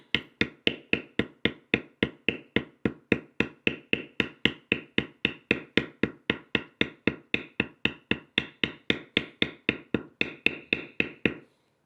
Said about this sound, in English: I take one of my largest backgrounding matting tools, and I just kind of run it along that area